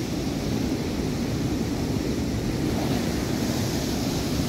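Ocean waves rolling in and breaking on the shore at La Manga, a steady broad wash of surf with some wind noise on the microphone, continuous and fairly loud with no voices.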